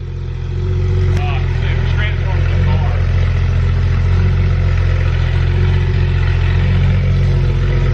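A Porsche 991.2 GT3 RS with new headers and exhaust drones loud and steady close by, a dense continuous engine roar filling the whole stretch with slight rises in pitch.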